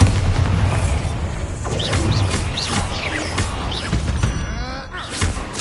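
In the Hogwarts Legacy video game, the Bombarda explosion spell sets off several heavy, close booms and crashes with shattering debris. The blasts land over a busy stretch of combat noise.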